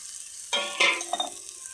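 Prawns frying in a pan with spring onion stalks, heard as a couple of short sizzling and stirring bursts close by, with quiet gaps between them and no speech.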